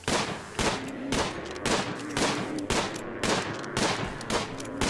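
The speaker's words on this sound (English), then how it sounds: "I love how they just run right in front of gunfire." Sustained gunfire from the video game RimWorld, with dense bursts of shots repeating about every half second over five seconds, loud and steady with no talking.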